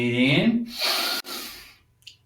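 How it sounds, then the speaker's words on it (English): A deep inhalation taken during a guided shiatsu breathing exercise, a close, audible breath drawn in over about a second with a voiced onset, followed by a quieter exhale and a brief soft sound at the end. "Breathing in."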